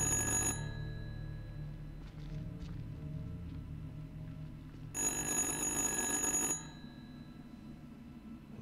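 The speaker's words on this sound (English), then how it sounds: "The phone is ringing." Telephone ringing in the horror game Little Hope, two bursts of bright electronic trilling separated by a long pause, over a low ambient rumble.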